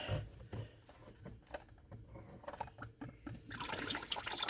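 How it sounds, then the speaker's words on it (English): Motor oil draining from a loosened oil filter on a 2023 Chevrolet Equinox, heard as faint liquid trickling and dripping with small clicks, swelling into a steadier pour toward the end. "next we're going to just loosen the oil filter and let it drain"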